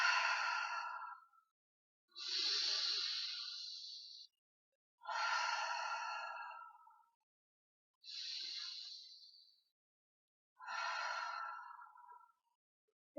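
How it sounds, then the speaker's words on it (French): A person breathes out deeply in a guided breathing exercise, five long, airy exhalations, each lasting about two seconds and separated by silent pauses, close and alone. "Inspirez, soufflez."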